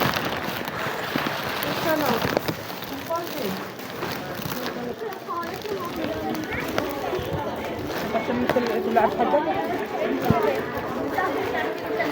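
Steady rain falls outdoors in Saudi Arabia as a broad, continuous hiss, with people chattering and footsteps moving through it the whole time.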